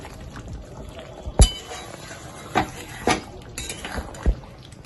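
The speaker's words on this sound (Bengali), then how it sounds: "শাহি গরম মশলা, বেনুদি সিক্রেট মশলা। আবার একটু নাড়িয়ে দেব।" Kashmiri aloor dum with garam masala being stirred in a pot, a few distinct clinks and scrapes of a spoon against the metal over a quiet simmering background, close and without speech.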